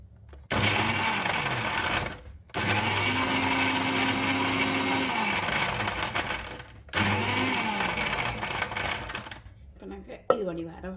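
A mixer grinder whirs through green chilli, mint and coriander leaves in three loud grinding bursts separated by short pauses, the motor pitch sagging as each run winds down.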